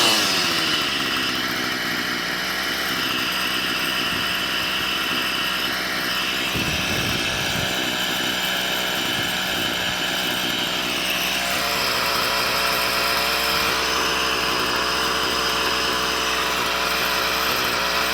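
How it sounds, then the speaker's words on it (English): A petrol strimmer (line trimmer) with its cutting head spinning after a carburetor tune, running as a steady, loud, close-up buzzing engine drone that holds for the whole stretch with slight shifts in pitch. "So I've now got the strimmer up and running."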